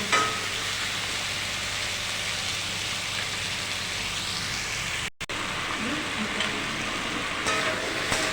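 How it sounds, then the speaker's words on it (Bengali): Taro and potato fry in oil with onion and tomato, giving a continuous, even, rain-like sizzle close by. It holds steady throughout, with only a brief cut partway. "কচু আর আলুটা পেঁয়াজ আর টমেটোর সাথে তেলের মধ্যে ভালো করে আমরা একটু ভেজে নেব।"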